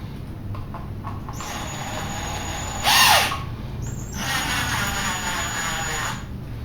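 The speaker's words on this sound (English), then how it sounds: "So to do that, I'm just going to run in a screw." A power drill drives a 3/4 inch wood screw with a washer into wood while a beehive nuc frame is built: two whining bursts of the motor, close and loud, with a brief sharp squeal between them.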